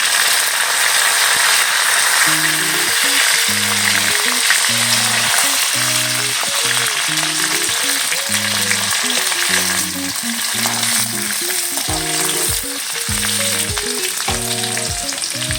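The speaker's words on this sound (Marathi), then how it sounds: "त्यानंतर थोडे जिरे नंतर कढीपत्ता टाकूया" Cumin seeds and curry leaves sizzle in hot oil, giving a loud, steady frying hiss for the whole stretch, with a rhythmic low tonal pattern like background music underneath.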